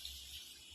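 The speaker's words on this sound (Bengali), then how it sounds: "আমি এই জল ঢেলে দিচ্ছি" Water poured into a cooking pot of chicken curry on the stove, a short, faint, steady splashing trickle under a low background hum.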